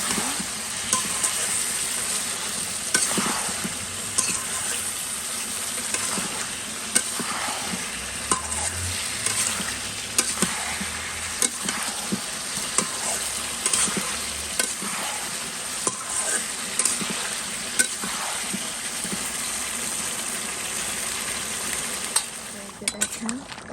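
A spice mixture stir-fried in a pan, with a steady sizzle running throughout and frequent scraping and clinking of a spoon against the pan at irregular intervals, close and moderately loud.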